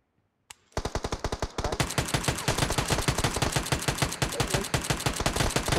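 Rapid automatic gunfire in PUBG Mobile, starting after a brief pause and continuing as a dense, fast, loud burst of repeated shots.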